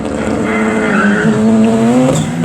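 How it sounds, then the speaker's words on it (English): A drag racing car launches off the start line at an airfield event, its loud engine rising in pitch as it accelerates and the tires squeal briefly, heard up close. "a bit of a tardy start there for George Sr. on that one."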